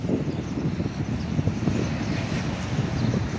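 Loud, steady engine roar from an airplane flying overhead at a coffee shop near a plane viewing area at Airways Land, a dense broadband rumble with wind buffeting and no speech.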